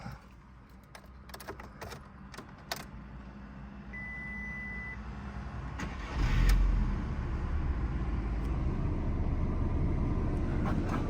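A Volkswagen Golf 4 engine starts with a short crank and settles into a low, steady idle, heard after some clicks and key sounds from inside the car.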